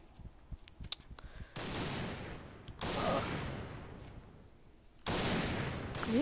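Bursts of gunfire in the online shooter Point Blank during a sniper match, three loud sustained volleys with quieter clicks and game sounds between them.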